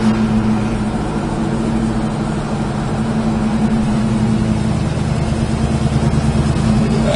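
A 1968 Chevrolet Chevelle rolls along under braking with no hands on the wheel, a steady low engine drone and road rumble filling the cabin at constant level.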